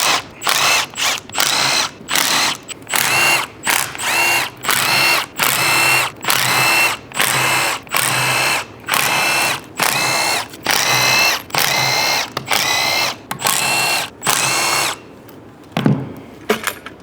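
Power tool, likely an impact driver, taking 8mm bolts off the side cover of a CFMOTO 950 HO turbo engine: a long run of loud, evenly spaced bursts, each a second or less with short gaps, ending with a softer clunk alone.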